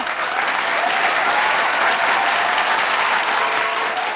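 Loud, sustained applause from a studio audience at a Punjabi celebrity talk show, dense steady clapping that fills the whole stretch without a break.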